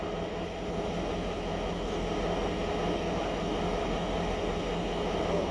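A CN diesel locomotive, an ex-BNSF GP38-2 road switcher on a winter night local, rumbles steadily with a deep, continuous engine drone and no voices.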